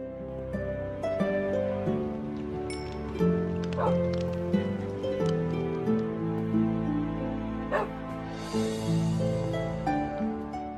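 A puppy in a medieval-themed modded Minecraft game gives a few short, sharp barks over steady background music.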